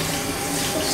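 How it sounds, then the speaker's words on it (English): Water runs steadily from a hotel shower, a continuous hiss close by with no other sounds. "A shower? This is hotel showers, eh?"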